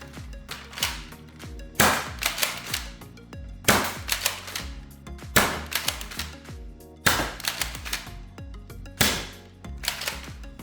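A Dart Zone Nexus Pro blaster fires mixed short foam darts in sharp mechanical bursts of several rapid clacks, with six such volleys spaced about two seconds apart, close and loud.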